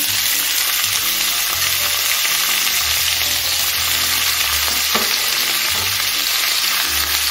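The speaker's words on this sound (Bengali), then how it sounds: "এখন আমি আগে থেকে কেটে রাখা পেঁয়াজটা দিয়ে দিচ্ছি।" Chopped onion hitting hot oil with cumin that has already been fried, giving a loud, continuous, dense sizzle close up and steady throughout, with no voices.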